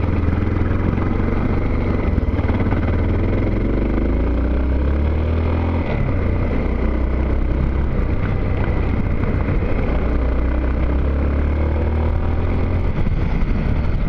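A vehicle on new tires accelerates along a gravel road, its engine droning steadily and loudly with low rumbling, rising and falling with throttle, as stones crunch and clatter underneath.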